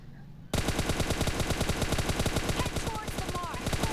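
Rapid gunfire from a shotgun in an online shooting video game, a dense steady volley of loud shots starting abruptly after a brief quiet moment and continuing without pause.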